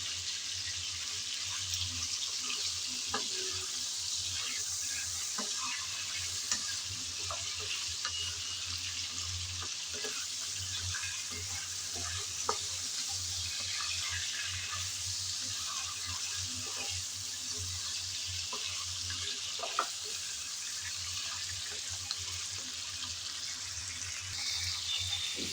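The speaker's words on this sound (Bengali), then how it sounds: "তাই আমি 3-4 মিনিটের মতন চিকেনটা ভেজে নেব তেলের মধ্যে" Chicken pieces fry in hot oil for a few minutes, kept from browning too much: a steady, quiet sizzle runs throughout, with scattered soft clicks and scrapes from occasional stirring and no voices.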